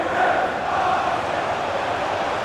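A stadium crowd in the game FIFA 23 roars steadily, a dense, loud and sustained wash of cheering voices with no breaks and no clear commentary over it.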